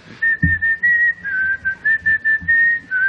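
A short whistled tune: a clear, steady melody in phrased bursts, whistled alone without talk, with a brief thump near the start.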